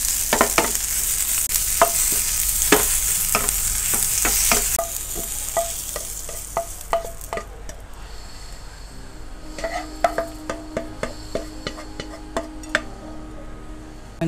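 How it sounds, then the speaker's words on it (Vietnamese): Ingredients stir-fried in hot oil for Vietnamese eight-treasure braised chicken, a loud steady sizzle with repeated sharp scrapes and clinks of a utensil against the pan, then a quieter, sparser sizzle with intermittent stirring knocks. "Ba thứ này mình xào."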